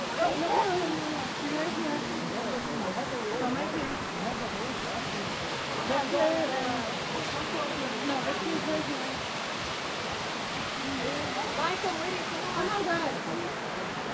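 A low river flowing steadily along a hiking trail, a continuous broad wash of water with voices talking over it.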